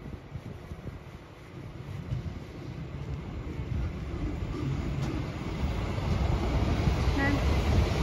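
A passing train makes a broad, steady rumble that swells gradually louder over about eight seconds, with wind-like noise and no horn.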